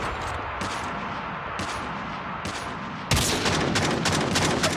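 Call of Duty Mobile gunfire in an objective-capture match: rapid automatic bursts and single shots rattle continuously, swelling into a louder, denser barrage toward the end.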